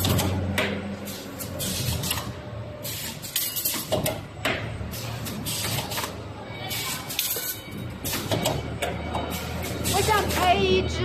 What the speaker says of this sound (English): this butt welding machine.